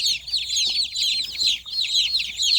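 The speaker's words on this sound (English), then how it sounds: "one of the chicks hopped up on the edge of the box and jumped over" Meat bird chicks in a brooder box give a dense, continuous chorus of shrill peeping, loud and close, with no voices.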